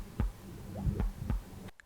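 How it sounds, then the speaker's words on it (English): A heartbeat sound effect in Minecraft thumps low and dull several times in an uneven rhythm, close and fairly loud over a faint hum, then cuts off. "I have the heartbeat here."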